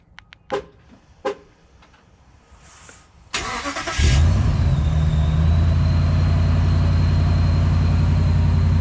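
Doors lock with a few sharp clicks and beeps, then a 2012 Ram 1500 with a Hemi engine remote starts from the key fob, a loud crank that settles into a steady, close idle.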